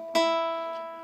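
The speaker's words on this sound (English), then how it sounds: "it's going to sound like this, the nail pulling the string." A single guitar string plucked sharply with a fingernail, a bright snap followed by a clear tone that rings out and slowly fades.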